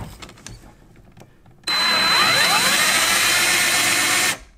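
Power drill boring a 5/8-inch hole through the bed of a Toyota Tacoma, a loud steady whine that starts abruptly after a quiet moment, holds for about three seconds and then stops.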